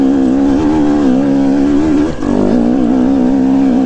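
A KTM 250 EXC dirt bike engine revs hard and steadily as the rider climbs a steep hill with spinning traction, a loud, close, continuous buzzing drone that briefly dips and falters midway before surging back.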